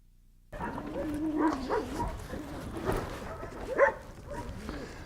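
A small dog whimpers and gives soft, yelping barks close by in a quiet room, its whines rising and falling continuously with one sharper yip near the end.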